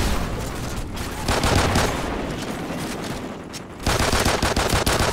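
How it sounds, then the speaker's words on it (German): Rapid gunfire in a Call of Duty Ghosts team deathmatch, dense, loud bursts of shots almost without pause, dipping briefly before another heavy volley. "Junge, ich mach dich mit der Pistole fertig."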